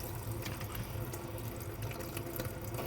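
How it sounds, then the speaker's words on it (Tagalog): Tap water runs steadily into a container to soften hardened baby bird food in a kitchen, a continuous close splashing and gurgling stream with small drip-like spatters and no talk. "Lalagyan ko lang ng konting tubig."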